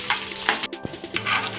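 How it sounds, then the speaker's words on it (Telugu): Chicken frying with onion pieces and coriander in a pan, a short burst of sizzling with a few stirring scrapes and clicks, close and moderately loud. "ఇందులోకి మనం ముందుగా కట్ చేసి పెట్టుకున్నటువంటి ఉల్లిపాయ ముక్కల్ని ఇందులో వేసుకుందాము"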